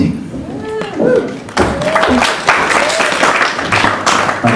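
Comedy special audience applause and scattered clapping swell in bursts with voices talking over it, fairly loud and close throughout.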